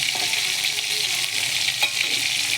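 Fish fries in a pan with a steady, bright sizzle that holds at an even level throughout, broken by a couple of faint clinks from a utensil. No one speaks.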